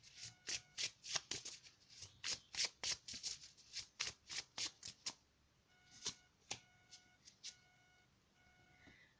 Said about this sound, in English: I'm going to be pulling the Sacred Creators Oracle cards now.